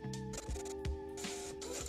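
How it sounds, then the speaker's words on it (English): Printer sound effect for a printed restaurant order ticket: a faint mechanical whirr with scratchy bursts and short clicks over a steady hum. "I have my printer sound, and you want the sound to match the movement."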